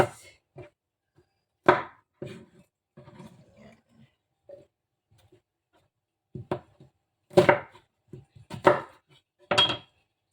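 Squid being cut with a knife on a board, heard as scattered sharp thuds and taps, some isolated and others in quick clusters, loud and close against near silence.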